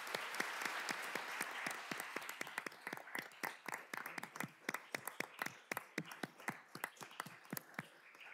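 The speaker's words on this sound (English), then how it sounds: "Could you give all of our candidates a round of applause?" An audience at a mayoral candidate forum applauds, starting as a full round of clapping that thins into distinct, scattered claps near the end.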